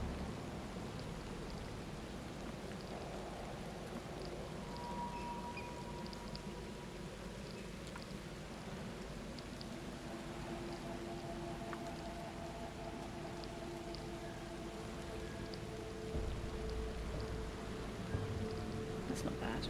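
Steady rain falls in The Sinking City, a dense, continuous hiss of drops on surfaces with low rumbling beneath, holding at an even level throughout and swelling slightly toward the end, with no voices over it.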